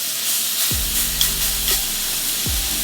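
Wagyu steak searing in a pan after being flipped, a loud continuous close sizzle with a couple of brief scraping clicks, no voices.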